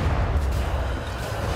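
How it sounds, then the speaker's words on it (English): Cannon fire in Warhammer Vermintide, a sustained heavy low boom and rumble filling the whole moment, loud and close with no talking. "We could use the cannons. The fuse sputters, but the spark will serve."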